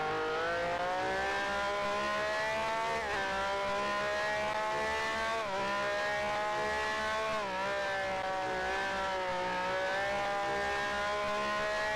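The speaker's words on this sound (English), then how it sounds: "Revving quite hard." A race car engine in a sim racing game revs hard and sustained, a bright buzzing whine that dips and climbs with gear changes, loud and continuous with no talk.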